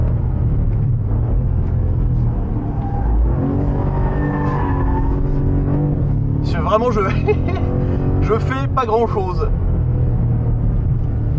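A rear-wheel-drive sedan's engine roars loudly from inside the cabin with a steady low drone, then revs up hard in rising accelerating sweeps, while someone talks over it.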